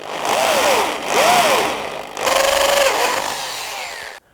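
A loud power drill whines steadily, its pitch swooping up and down in arcs as it bites into a metal vehicle differential while fitting a locker, then cuts off abruptly.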